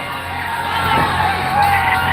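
A live event crowd screams and cheers for T-shirts fired from T-shirt cannons, a loud sustained roar of many voices with whoops and yells close by.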